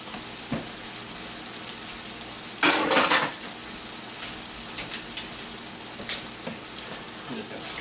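A spoon stirs Coney Island chili sauce with black pepper and Worcestershire in a pot, scraping and clinking in scattered bursts with one louder rattling stretch over a faint steady hiss.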